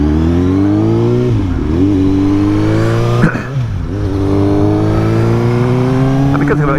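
A Suzuki GSX-S 750 with a Translogic quickshifter accelerates hard on the road, its engine note climbing through the revs, then dropping sharply at gear changes before rising again, loud and close.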